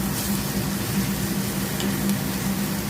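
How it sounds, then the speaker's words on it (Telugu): Ridge gourd fries in oil with a constant soft sizzle and crackle, close and even throughout with no break. "వేగినాక బాగా మళ్ళీ వేయించాలి. ఈ నూనెలోనే మగ్గిపోవాలి బాగా"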